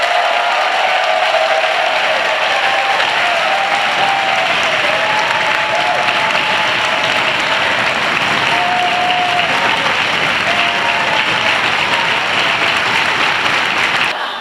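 A crowd at an Acton Democrats rally applauds steadily and loudly in welcome for Senator Jamie Eldridge, with dense, continuous clapping that lasts the whole stretch and no speech over it.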